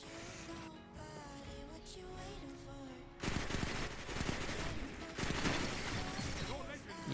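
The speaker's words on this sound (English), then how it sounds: "I love this auto rifle." Rapid auto rifle fire in the shooter game Destiny 2 crackles in sustained bursts over game music and effects, loud and close, with a player talking over the action.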